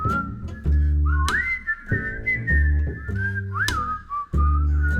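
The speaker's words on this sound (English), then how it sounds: "Everybody whistle." Audience whistling carries a wavering tune over rhythmic music at a virtual concert, with bright swoops up and down, clear and prominent throughout.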